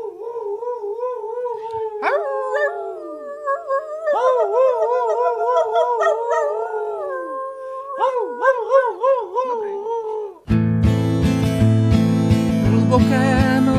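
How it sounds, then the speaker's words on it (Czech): Several wolves howl in long, overlapping rising and falling cries, sounding joyful and somewhat distant, before music abruptly takes over near the end. "Jen jejich radostné vití bylo slyšet z dálky."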